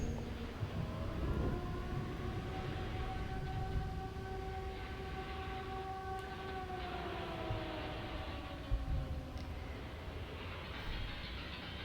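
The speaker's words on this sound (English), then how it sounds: "that's why there's that slight siren in the background" A faint, droning siren wails in the background of Silent Hill 2 Remake, its wavering tones sliding slowly up and down over a constant low rumble, steady throughout with no speech.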